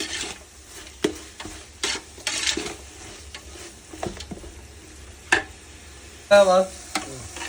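Ginger garlic paste frying in a pan while a spoon stirs it, giving soft sizzling broken by intermittent scraping strokes and a few clanks against the pan.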